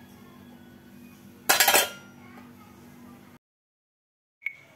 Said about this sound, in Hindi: एकदम सारा बर्तन साफ हो गया है, तो अब मैं अब इनको साफ कर दूंगी